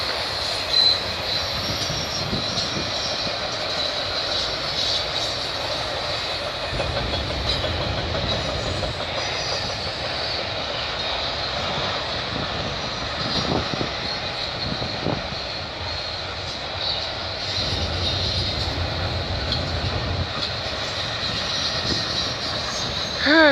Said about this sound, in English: We just got this 149 CN train.